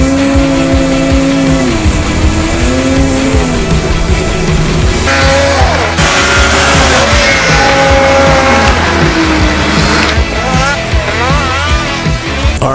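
Polaris Assault Boost turbocharged snowmobile engine revving loud and close for the whole stretch, pitch sweeping up and down through repeated throttle pulls with a rising whine near the end.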